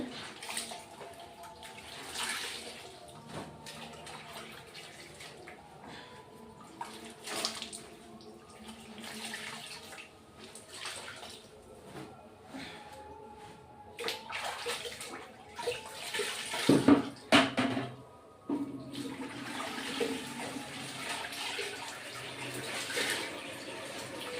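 Tap water runs and splashes while fish is washed for cooking katla fish curry with gathi kachu, a faint steady flow with intermittent louder splashes and surges.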